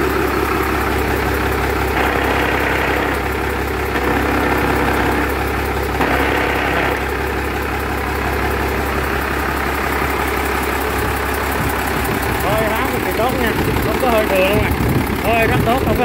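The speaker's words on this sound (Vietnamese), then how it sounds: "Máy nổ rất sạch nhiên liệu nha" A Yamaha MD750 420-horsepower engine idles with a steady, loud mechanical drone and rumble, its tone shifting slightly in places, while someone talks intermittently over it.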